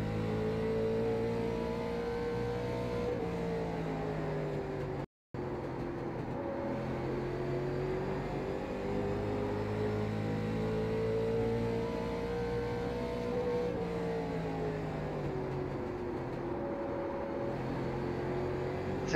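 A late model race car engine drones on a racetrack at USA International Speedway, with sustained revs whose pitch rises and falls through the corners and one brief dropout.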